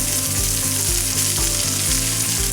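Lamb and rosemary sausages sizzle loudly and steadily in a hot pan, a dense close frying hiss with a regular pulsing rhythm throughout and no voices.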